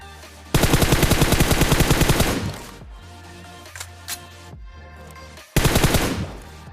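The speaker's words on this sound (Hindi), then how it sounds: "तभी पीछे से फायर आता है इसके टीममेट्स का" Teammates' automatic gunfire in PUBG Mobile: a long, loud burst of rapid, evenly spaced shots, then scattered single shots and quieter gaps, and finally another short rapid burst, with no voices.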